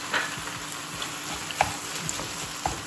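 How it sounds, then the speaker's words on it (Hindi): Beetroot halwa with khoya stirred and roasted in a kadhai, giving a soft, steady sizzle with faint scraping and occasional light clinks of the spoon against the pan. "हलवे को भूनते हुए मुझे 2 मिनट हो चुके हैं।"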